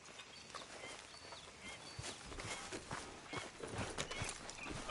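Hooves of a horse walking at a steady pace through a video game scene, a mid-distance clip-clop mixed with ambient outdoor noise and occasional bird calls, no speech.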